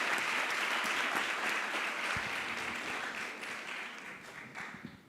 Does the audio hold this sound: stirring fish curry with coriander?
no